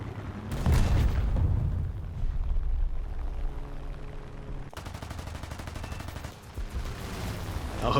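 Ostwind anti-aircraft gun firing in a flight combat video game, with a dense rapid burst of shots over rumbling engine noise and explosions, the fire rattling loudly in the latter half.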